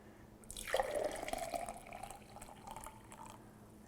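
Hot water pours into a glass during a science experiment, a close, gurgling splash that rises in pitch as the glass fills and then trails off to a quieter trickle.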